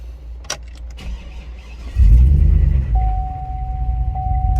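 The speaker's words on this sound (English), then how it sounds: "I think we spun a bearing in the old Trailblazer." A Chevrolet Trailblazer SS with an LS2 V8 and a spun bearing starts up and idles with a loud, close, heavy rumble, preceded by faint clicks, with a thin steady whine emerging over the engine drone.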